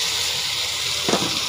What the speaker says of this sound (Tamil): ஒரு 5 நிமிஷம் நல்லா ஃப்ரை ஆகட்டும்.